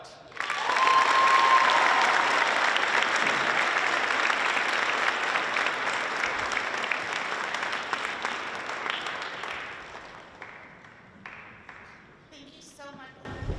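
Sustained applause from an audience welcoming the keynote speaker, Dr. Bethany Perez-White, at the IMSAloquium 2025 event. The clapping is loud and dense at first, then thins out and fades over about thirteen seconds.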